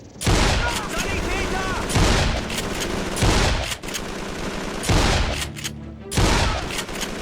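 Sustained gunfire from Call of Duty 3 on PS2, dense overlapping bursts and shots running almost continuously at close range, with brief lulls between volleys and a voice talking over parts of it.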